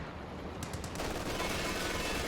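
A tank fires an armor-piercing shell in Company of Heroes 2, a sudden loud blast that swells into a sustained rumbling roar after a few faint clicks.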